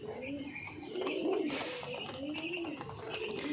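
Punjabi Malwai pigeons coo in soft, repeated low warbles, fairly close, with faint rustling and distant background noise.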